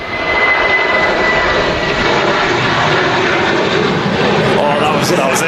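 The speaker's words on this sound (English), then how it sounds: "that was really early for a Jet2 to rotate" Jet2 airliner taking off, a loud continuous jet engine roar filling the whole stretch, near and sustained, with people talking over it.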